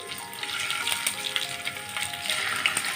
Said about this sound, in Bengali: তেল গরম হয়ে গেছে বন্ধুরা দেখুন এক করে ছাড়ছি আমি